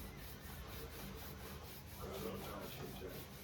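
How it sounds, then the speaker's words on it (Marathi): A rolling pin rolls out chapati dough with a steady, soft, rhythmic rubbing and scraping. The strokes repeat evenly and stay quiet and close, with no talk over them. "एकदम हलक्या हाताने लाटून घ्यायची चपाती."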